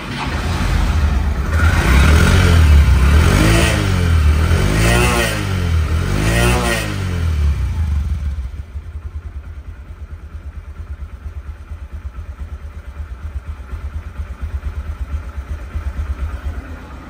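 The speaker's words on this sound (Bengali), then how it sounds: "এই বাইকটির সাউন্ড কোয়ালিটি শুনলে আপনারা অবাক হয়ে যাবেন।" A second-hand motorcycle engine revs loudly and close in repeated rising and falling bursts for about eight seconds, then settles into a steady, quieter idle.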